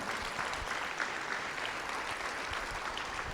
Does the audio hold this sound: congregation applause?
yes